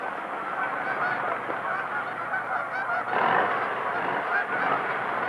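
A flock of geese honks loudly and continuously at a capture net, many overlapping calls close by forming a dense, agitated chorus.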